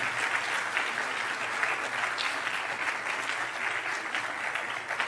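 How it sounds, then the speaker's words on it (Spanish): A church congregation applauds during a sermon, a steady, dense wash of clapping that holds evenly throughout without voices over it. "¿Por qué no le da un aplauso al Señor?"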